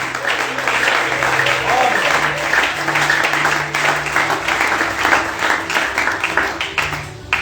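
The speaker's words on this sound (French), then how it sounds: "Est-ce que vous pouvez acclamer pour cette expérience?" An audience at a church sermon gives steady, dense applause with scattered cheers. The clapping stays loud for several seconds and tapers slightly at the end.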